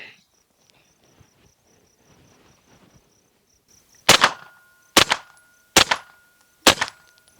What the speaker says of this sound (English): I'm gonna shoot the 124 grain Fiocchi through this silencer 9mm